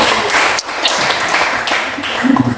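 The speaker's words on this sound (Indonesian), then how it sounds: "Oke, tepuk tangan." A classroom group claps at the end of a chemistry lesson, a loud burst of hand claps at close range that continues briefly and irregularly before fading.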